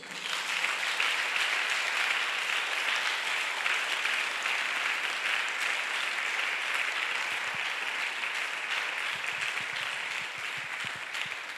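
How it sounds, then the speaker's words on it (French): A church congregation claps and cheers for the Lord in a long, steady wave of applause that stays loud and dense throughout, then eases slightly toward the end. "Est-ce que tu peux acclamer le Seigneur?"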